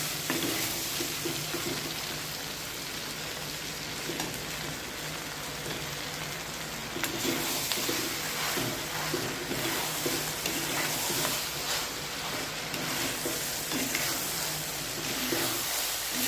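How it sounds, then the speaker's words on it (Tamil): Ginger garlic paste sautés in a clay pot of vegetable rice, giving a dense, steady, rain-like sizzle that runs the whole time with faint stirring underneath, close and even. "இஞ்சி பூண்டு வதங்கிட்டு இருக்குது"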